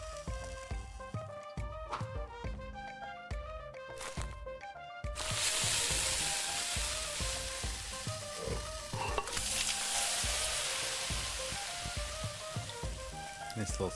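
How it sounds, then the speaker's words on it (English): Food sizzles in a pan in the cooking video game Venba, a steady bright crackle that rises after a stretch of plucked game music and continues loud under a brief voice. "Nice little sizzle."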